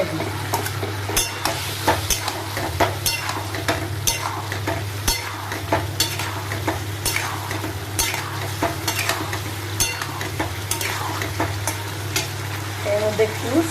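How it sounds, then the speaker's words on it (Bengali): Potatoes fry in spice paste for a vegetarian aloo dum, with a loud steady sizzle, frequent scraping stirs and a constant low hum in the background; no talking. "আলুগুলা দিয়া এবার মশলা ধরে কষাই দিই।"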